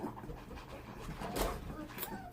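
A puppy pants softly and quickly close by, a faint run of breathy huffs in a quiet room.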